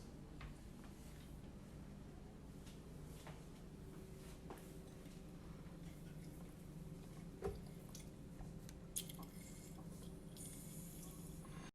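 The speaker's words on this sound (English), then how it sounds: "I'm going to start juicing my lemons." Lemons squeezed by hand for Middle Eastern mint lemonade give off faint, soft squishing and dripping in a quiet kitchen, with a couple of brief louder squelches near the end.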